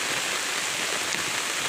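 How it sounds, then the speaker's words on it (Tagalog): Dense, hissing rainfall pours steadily onto surfaces, a loud, unbroken wash of drops with no voices. "ang lakas ng ulan mga kabansa"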